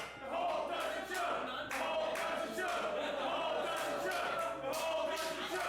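A crowd chants together at a women's wrestling show, a loud, sustained rhythmic roar of many voices with rising and falling swells, filling the hall.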